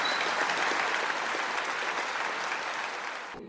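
Lecture-hall audience applauding after Noam Chomsky's talk on US foreign policy in Madison, Wisconsin: a dense, sustained patter of many hands clapping that holds steady before tapering and cutting off at the end.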